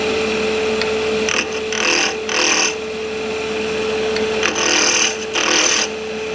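A wood lathe turns a Christmas sphere ornament's long finial from a one-inch-square blank at roughly 1500–2000 RPM, a steady motor hum broken by several bursts of scraping and cutting as the tool meets the spinning wood.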